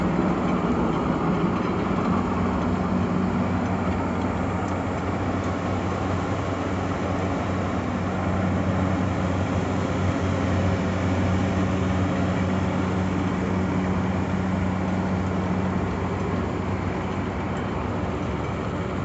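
A 167D seed cleaner machine runs continuously with a steady mechanical rumble and hum, a dense, even drone of moderate loudness and no pauses.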